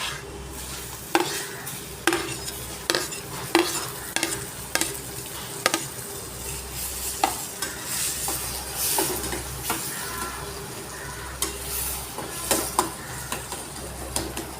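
Tomatoes sautéed with softened onions in a pan, stirred steadily with a spatula. It gives repeated close scraping taps over a continuous frying sizzle, with no voices.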